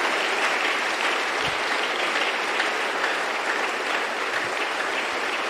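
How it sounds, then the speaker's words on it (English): Church congregation clapping at a Sunday service, a full, continuous round of many hands filling the room at a steady level without pause. "Clap for Jesus."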